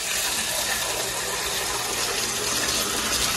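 Water gushes steadily from a faucet, a loud continuous hiss and splash that holds without pause and has no voices over it.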